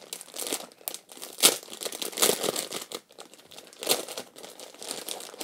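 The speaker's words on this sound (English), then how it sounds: "So we open it. It does have a resealable packaging." Resealable plastic packaging of a jumbo squishy croissant toy is opened up close, producing a string of crisp crinkling and crumpling bursts with short pauses between them and no talking.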